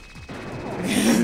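A monkey enemy in the Ape Escape video game fires a gun, giving a short burst of crashing shots that builds louder toward the end of the brief moment, with no talk heard.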